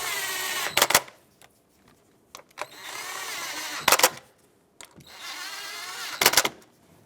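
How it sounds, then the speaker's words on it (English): A 10mm socket snugs up the valve cover bolts on a 2008-2020 Dodge Grand Caravan 3.6L engine. It runs in three loud whirring bursts, each broken up by sharp clicks, with quiet gaps between them. "10mm socket, snug these up."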